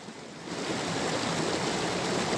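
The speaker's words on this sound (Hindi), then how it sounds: "मनोरम है, निर्मल है इसका पानी, कलकल की आवाज़ के साथ में" A small clear mountain stream on a trek toward Pindari Glacier babbles and rushes continuously, a steady, full broadband wash of flowing water close by with no voices.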